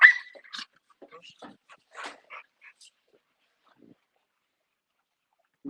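Dogs from a breeding kennel give a few scattered short barks and yelps, moderately close, spaced irregularly and fading out into quiet.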